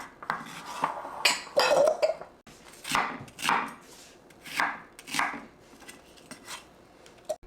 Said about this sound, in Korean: 이거를 이제 핏물을 제거했으면 좀 이렇게 다져주세요